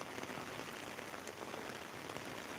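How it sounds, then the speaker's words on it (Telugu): Drizzling rain falls steadily in a village. It makes a dense, even hiss of fine drops on surfaces, constant and fairly soft, with no voices over it. "ఇది ముసురు వర్షం అనొచ్చు కొంచెం చినుకులు అయితే ఒత్తుగా పడుతున్నాయని చెప్పవచ్చు"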